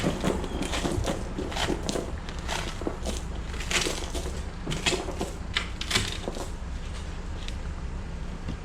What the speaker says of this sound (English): We need to break away the glass so we have room to operate.